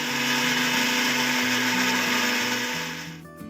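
An electric blender grinds ginger, garlic and green chili into a paste, a loud steady whirring motor with shifting low pitch that runs continuously before winding down near the end.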